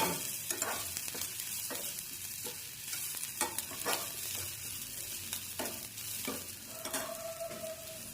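Red chili powder fried with onions in hot oil for a tadka sizzles steadily, with a spoon repeatedly scraping and stirring the pan in close, irregular strokes.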